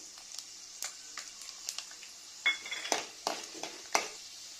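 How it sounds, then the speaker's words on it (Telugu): Peanuts and chana dal fry in hot oil for mango pulihora, a soft steady sizzle broken by several sharp scraping stirs of a spoon against the pan, close and fairly quiet with no talking. "ఆయిల్ హీట్ అయిన తర్వాత వేరుశనగుళ్ళను వేసుకొని వేరుశనగుళ్ళు కొంచెం వేగిన తర్వాత దీంట్లోని పచ్చిశనగపప్పు"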